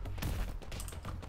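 Rapid gunfire from a weapon in the video game Starward Rogue, a dense burst of repeated shots with low thumps, loud and continuous across the short stretch with no talk.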